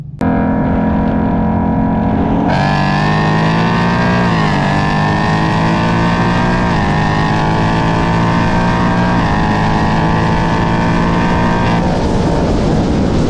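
A bone-stock Cadillac CT5-V manual sedan roars loudly and close while racing, its engine note climbing as it accelerates hard through the gears, steady and continuous throughout.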